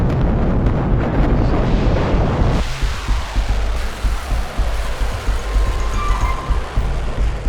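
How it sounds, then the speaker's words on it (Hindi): A heavy blast from Iranian missile strikes on Israel opens as a deep, loud roar, then eases into a rumbling, crackling wash of sound that lasts to the end, with no voices. "अब इजराइल के ऊपर ईरानी मिसाइलें लगातार आग बरसा रही हैं"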